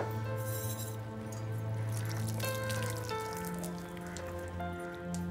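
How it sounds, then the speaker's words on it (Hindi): Water poured from a vessel over hands for washing, a continuous trickling splash under a tonal background hum, moderately close and steady throughout. "पानी डाल।"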